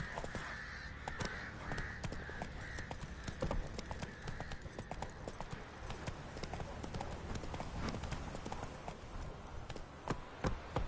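Hooves pound out a steady, fast galloping clip-clop from a horse ridden in a PS4 video game, loud and continuous with dense percussive hits throughout, crows cawing in the background.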